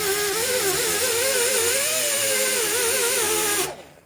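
A grinder with 80 grit sanding smooths car body metal on a Crown Vic swap, a steady close whirring drone with a wavering pitch that holds for several seconds before cutting off.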